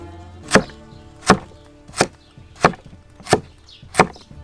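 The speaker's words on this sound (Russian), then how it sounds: "Остается нарезать морковку." A knife chops carrots on a board for a soup cooked in a village kitchen, six sharp, evenly spaced thwacks ringing out close and clear with no talking.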